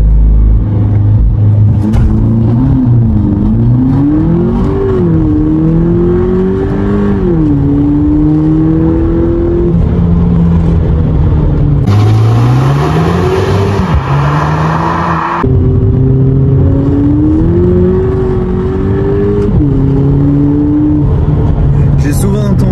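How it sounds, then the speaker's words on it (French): A 200 hp Volkswagen Polo GTI engine revs up hard through its gears in a launch-control start, loud and close, with a sustained rising and falling drone and a brief shift break. "Donc là, on va faire un petit launch control."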